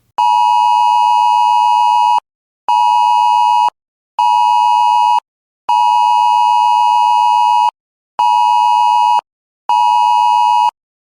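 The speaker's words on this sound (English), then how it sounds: "This is what the AusAlert system will sound like when it activates in your area." Emergency alert tone from the Australian AusAlert system activating in the local area: six loud, steady electronic beeps of uneven length, separated by short silent gaps, with no voices.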